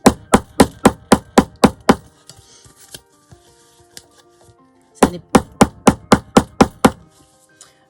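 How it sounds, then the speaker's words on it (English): A small hammer taps grommets down in quick bursts of about eight sharp, close knocks, a pause with faint rattling and a brief spoken word, then another run of even strikes. "all you do is you got your little hammer and you hammer them down"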